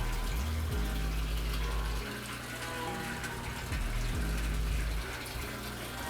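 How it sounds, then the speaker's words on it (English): Air stones bubbling in the water of an A-frame deep flow hydroponic system, a continuous close gurgling and burbling with a steady low pump-like hum beneath, no voices. "the bubbling that takes place around them. Now that is oxygenating the water"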